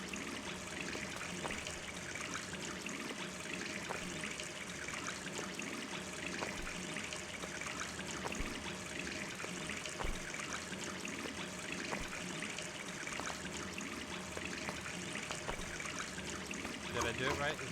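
Steady water trickling in the video game Gone Home, a continuous close stream of running liquid that stays even throughout with faint clicks, no one talking.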